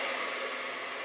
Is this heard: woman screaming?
no